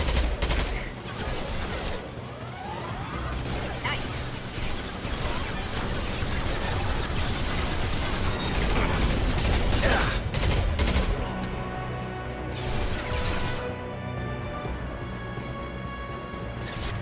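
Sustained video game gunfire in a combat firefight, dense bursts of shots running nearly the whole time at steady loudness, with game voices occasionally over the noise.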